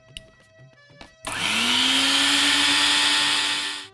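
An electric blender purees spinach with coriander, green chillies and a little water: after a few soft clicks and clatters, the motor roars in loudly and spins up, running as a steady, close whir until the end.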